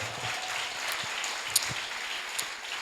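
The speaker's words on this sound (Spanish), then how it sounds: "Alguien le va a aplaudir de verdad." A church congregation applauds in a moderate, steady patter of clapping, with a few sharper claps standing out.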